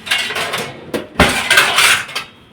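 Steel dishes, pots and utensils clatter and clink in a home kitchen as they are washed, several sharp close bursts separated by short pauses.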